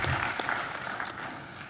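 Audience applause in a conference hall during a Salesforce career talk, a short burst of scattered clapping that fades under a steady roomy wash.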